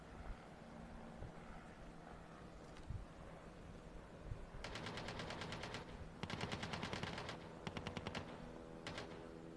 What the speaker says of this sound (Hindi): गोलियां बहुत चल रही हैं